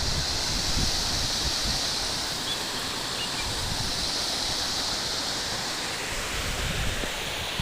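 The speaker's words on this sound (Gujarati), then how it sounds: "જો આ નાનું એવું ઝરણું જાય છે" A small stream near an old temple flows with a steady, even rush of water, moderately loud and unbroken.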